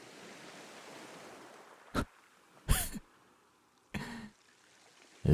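Dark night sea surf washes softly in the distance for a couple of seconds, then fades beneath several sharp, loud bursts of noise.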